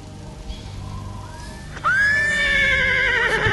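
A horse in the Metal Gear Solid 3 video game gives a loud, clear whinny that rises and wavers over a few seconds, preceded by softer shuffling and hoof sounds.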